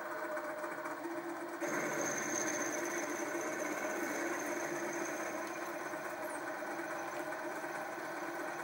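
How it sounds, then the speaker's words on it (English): A LittleMachineShop 3960 HT minimill drills aluminum with manual handle feed, giving a steady mechanical whir and hum that rises in level partway through and then holds, with no talk. "Now I'm simply using the manual feed with the handle and retracting every so many millimeters to clear the chip."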